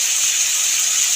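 Fried potatoes go into a pan of spice paste sizzling in oil for a Bengali bean, potato and bori curry, giving a steady, close, even hiss that runs unbroken and alone.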